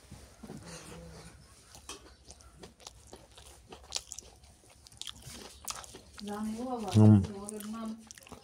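A lunchtime meal of fried napa greens and thin mutton curry is eaten with close biting, crunching and chewing noises, while voices sound around the table.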